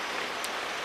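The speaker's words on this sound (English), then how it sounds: "you can probably hear it hissing down with rain" Heavy rain hisses down outside as a steady, even wash of noise that fills the whole short moment, with no voices.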